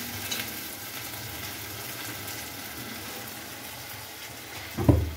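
Fried hilsa fish pieces going into simmering curry with kochur loti, a soft steady bubbling hiss followed by a brief louder splash near the end.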